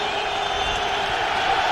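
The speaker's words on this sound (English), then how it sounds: "Crowd making it tough for Brunell to change his call" Stadium crowd at a 2001 NFL game between the Jaguars and Bears, a steady broad roar of many voices rising as a third down play is set, loud and continuous with no break.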